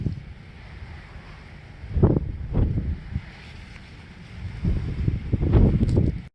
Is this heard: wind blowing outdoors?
yes